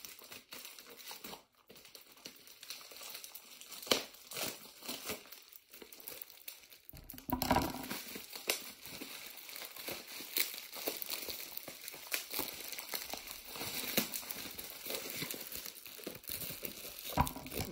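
Tape being pulled and torn and bubble wrap crinkling as a package is unwrapped, with continuous close rustling and crackling that grows busier after a brief quieter start.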